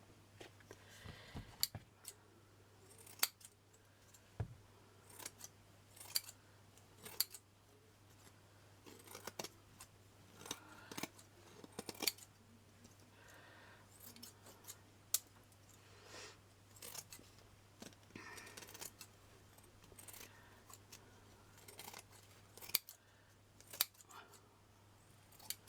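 Scissors cut paper for a pin book in scattered close snips and clicks across a quiet room with a faint steady hum, irregular bursts separated by pauses, no speech.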